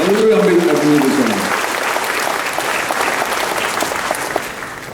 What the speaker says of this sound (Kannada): ದಯವಿಟ್ಟು ಅವರಿಗೆ ಕೈ ಚಪ್ಪಾಳೆ ಮೂಲಕ ಅವರನ್ನು ಅಭಿನಂದಿಸೋಣ